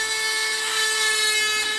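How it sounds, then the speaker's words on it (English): Sea glass being bored with a drill bit under water, giving a steady high-pitched whine with harmonic tones and a grinding hiss that holds constant throughout, loud and close with no talking. "Make sure your drill bit goes in the water."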